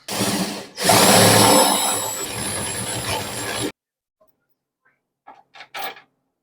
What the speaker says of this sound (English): I'm going to have to drill another hole